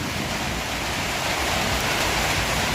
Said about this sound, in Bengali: সকাল সকাল চলে আসলো বৃষ্টি।